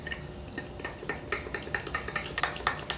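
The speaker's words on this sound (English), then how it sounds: "I'll stir it with a fork." Quick metallic clinks and taps of a fork stirring vegan chocolate sauce with a little water in a bowl, repeating in an uneven rhythm, close and fairly quiet.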